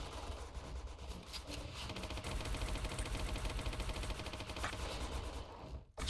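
Gatling gun firing in the video game Point Blank, a dense, fast continuous rattle of shots sustained for about six seconds, loud and close.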